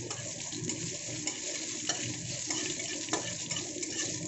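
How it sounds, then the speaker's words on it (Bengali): Black cumin, bay leaf, dried chilli and cinnamon pieces sizzle in hot oil as a tempering for dal, a steady close crackle broken by a few sharp scraping stirs. "এখন ফোড়নটাকে একটু ভালো করে ভেজে নেব"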